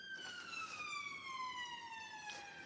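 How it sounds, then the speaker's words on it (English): A siren wails with a steady, slowly falling tone, heard alone over low city background noise in central London, moderately distant. "Siren."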